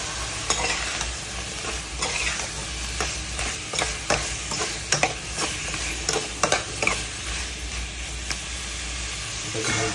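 Cut potatoes and karkol sizzle while being stirred and fried in spice masala in a pan. A continuous frying hiss runs under repeated scraping spatula strokes, heard close and fairly loud.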